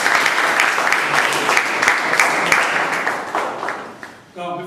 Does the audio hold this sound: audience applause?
yes